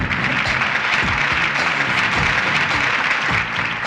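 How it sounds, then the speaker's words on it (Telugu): Audience applause for a prize giving at a college event, a dense, steady crowd of clapping hands sustained throughout at an even level, with no voices over it. "క్లాప్స్."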